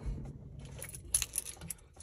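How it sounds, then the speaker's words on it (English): A car key being pulled out of the ignition of an automatic BMW gives a brief metallic jingle and clicks, close and fairly quiet over a low background hum. "Removing the key."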